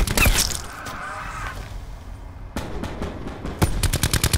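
Rapid automatic gunfire from a Call of Duty Black Ops 4 match, loud bursts at the start and again near the end around a quieter stretch, no talking.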